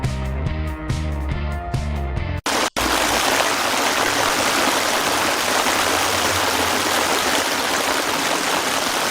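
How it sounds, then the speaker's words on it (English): Continuous rushing waterfall in the video game Mind over Magic, a dense, steady roar filling the clip after a short stretch of game music that cuts out abruptly. "It sounds like a waterfall."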